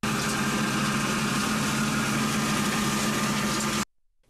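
A tractor engine drives a hay threshing machine in a rural field, giving a loud, steady, close mechanical roar and hum that runs unbroken and then cuts off abruptly.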